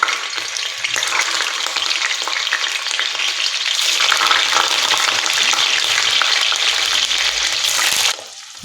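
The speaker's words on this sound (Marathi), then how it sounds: "तेल चांगलं गरम झालं की गॅसची फ्लेम आहे ती मिडियम करायची आहे आता याच्यामध्ये पनीर टाकायचं आहे" Paneer chunks frying in hot oil over a medium gas flame, a loud, dense, steady sizzle and crackle that holds throughout before easing off at the very end.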